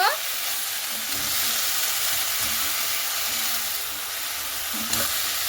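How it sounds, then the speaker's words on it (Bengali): Fenugreek greens sizzle and fry steadily in a hot pan for home-style Bengali cooking, with a few soft scrapes of stirring breaking through the continuous close crackle. "এবার আমি শাকগুলোকে দিয়ে দিচ্ছি, সেই মেথির শাকগুলোকে। শাকটাকে দিয়ে একটু ভালো মতো করে নাড়াচাড়া করে নেব"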